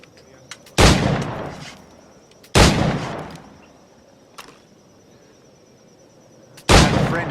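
Three heavy flintlock firearm shots from Assassin's Creed 4 Black Flag boom out loud and close, spaced a couple of seconds apart, each trailing off in a long reverberant tail over a faint steady game ambience.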